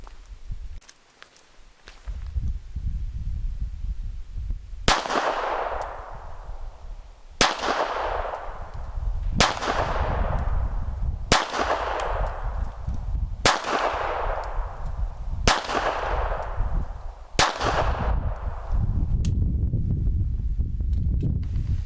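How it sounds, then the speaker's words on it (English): Seven sharp, loud pistol shots from a Rock Island Armory Baby Rock .380 ring out at an indoor range at a spaced, deliberate pace, about two seconds apart, each followed by a short echoing decay over steady background hum. "We're going to go ahead and take some head shots there in that 10 zone, and hopefully we'll be able to hit them with this baby rock."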